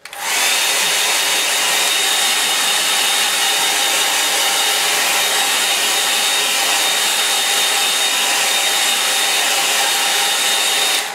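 A hair dryer blows on a wet line-and-wash watercolour painting, a loud, steady, unbroken whir that holds at one level from start to finish with nothing else heard.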